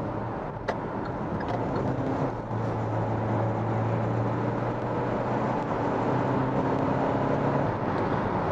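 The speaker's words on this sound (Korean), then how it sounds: "여기서 한번 추월 가속을 한번 해보겠습니다" A Kia Seltos diesel compact SUV accelerating hard from about 80 km/h to overtake, heard from inside as a steady loud drone of engine, road and wind noise with a low hum that holds throughout and no talk.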